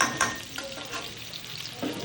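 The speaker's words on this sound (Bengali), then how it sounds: "আলুগুলো এবার লাল লাল করে ভাজা হয়ে গেছে" Potato pieces frying in oil in a wok for a homestyle aloo dum, a steady soft sizzle with a few stirring scrapes and clinks, close and moderately quiet, with no one speaking.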